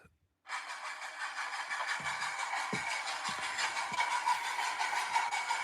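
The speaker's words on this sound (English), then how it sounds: "The sound of trains, ladies and gentlemen." A train rolls past, a sustained broadband rumble and hiss that begins abruptly and holds steady throughout, with a few low thumps of wheels over joints beneath it.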